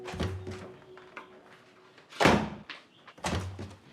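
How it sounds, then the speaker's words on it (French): A bedroom door slams hard, a loud broadband thump standing out alone, with softer knocks and shuffling thuds before and after it. "Et ce n'est pas à toi de claquer la porte de ma chambre"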